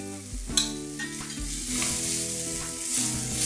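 Onions, celery and carrots with a spoonful of tomato paste sizzle hard in a hot pan, a loud continuous frying hiss broken by the scrape and clatter of stirring, close up and without talk.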